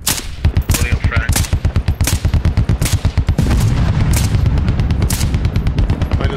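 Rapid automatic gunfire from a Squad infantry firefight, near and loud, with bursts of cracks and heavy booms that suggest a frag grenade blast, continuing almost without pause.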